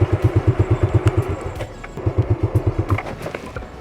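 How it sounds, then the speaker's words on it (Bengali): A motorcycle pulling off in first gear after being started, its engine giving a fast, regular pulsing putter close by, with a brief dip before the rhythmic throb resumes. "বাইক সেলফ অথবা কিক স্টার্টারের মাধ্যমে স্টার্ট করে ফার্স্ট গিয়ারে বাইক দিবেন"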